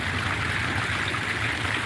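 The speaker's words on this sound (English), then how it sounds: "there is another water feature here" A water fountain running with reclaimed water in Adelaide city, a steady close rushing and splashing of water that holds constant throughout, with no talking.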